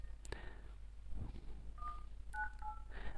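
Keypad tones from the phone dialer on LineageOS 19.0 (Android 12) on a Poco X3 NFC, with a few short separate beeps rising clearly above a faint low hum.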